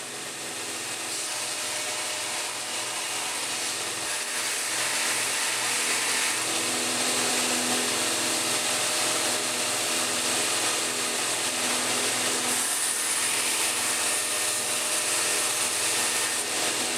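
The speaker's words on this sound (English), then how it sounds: "Next, I profile and rough grind the blade to get it ready for heat treat." A grinder works steadily on a knife blade for a Higo no Kami style friction folder, profiling and rough grinding it. A continuous hissing abrasive whine holds for the whole stretch, close and fairly loud, with no voices.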